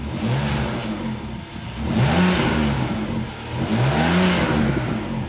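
A BMW E60 car engine revs up twice in a row, loud and close, the pitch rising and falling with each push of the throttle.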